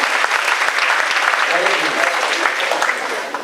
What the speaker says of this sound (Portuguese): dê um grande aplauso ao nosso Deus